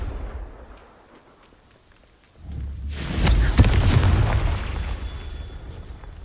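A Confringo fire spell bursts in Hogwarts Legacy: after a quiet lull, a loud close blast erupts, then a sustained rumbling roar with crackling debris that slowly fades.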